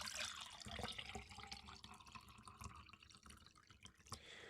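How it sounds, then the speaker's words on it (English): Water pours and drips into a sink or container, a steady close trickle with splashy drops that swells and fades over a few seconds, with no talking. "I'm just pouring out some water."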